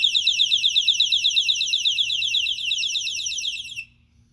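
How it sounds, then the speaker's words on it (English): NEBO MyPal 115 dB personal safety alarm sounding a piercing, rapidly warbling siren close up for nearly four seconds, then stopping abruptly. "I'm going to turn the alarm on for just a second."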